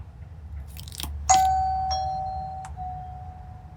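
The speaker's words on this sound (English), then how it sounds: "I just wanted to go show the doorbell ringing when I go press the button" A Wyze Doorbell v2 chime sounds after a click of the button, two tones ringing out clearly and decaying slowly in a quiet room.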